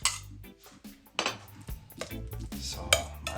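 Bananas being crushed in a bowl for Jamaican banana fritters, with irregular clinks and scrapes of utensil against the bowl, close and moderately loud, without talk.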